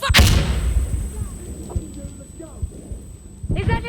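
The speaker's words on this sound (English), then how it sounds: "There's a grenade!" A grenade blast bursts loudly at the very start of a firefight in the co-op shooter Insurgency Sandstorm, followed by a muffled, ringing stretch with scattered distant thumps before voices and gunfire noise return at the end.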